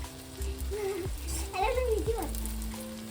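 Something fries in a pan for a homemade dessert, a soft sizzle that sits under background voices and a steady hum in a home kitchen.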